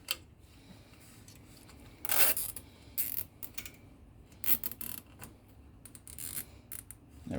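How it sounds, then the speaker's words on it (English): A plastic zip tie is pulled and ratcheted tight around CO2 laser tube wiring, giving several short, close, scratchy zipping bursts separated by quiet pauses, with no talking. "Guess let's get that zip tie almost on there."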